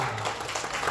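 Brief burst of audience applause at an indoor corporate leadership training session, a dense, steady wash of many hands clapping that fills the moment.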